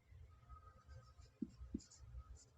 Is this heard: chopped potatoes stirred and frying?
no